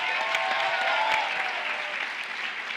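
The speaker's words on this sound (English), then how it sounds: "So let's again give ourselves a round of applause." A graduating crowd at Bloomfield College's 150th commencement ceremony applauds steadily, a dense wash of many hands clapping that holds loud and even for the whole stretch.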